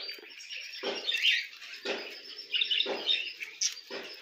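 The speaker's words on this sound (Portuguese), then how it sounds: "tem os passarinhos cantando" Small birds chirp and tweet in short bursts at regular intervals, fairly faint against a quiet outdoor background.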